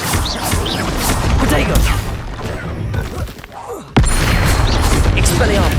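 Combat spells cast in Hogwarts Legacy, including Expelliarmus, Confringo, Defendo and Protego: a dense, loud run of booms, crashes and thuds with one sharp hit near the end, and talk mixed in.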